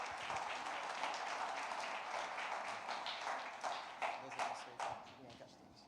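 A church congregation applauds during a celebration service, a dense, steady wash of many hands clapping at once that carries on without a break and thins slightly toward the end, with no talking over it.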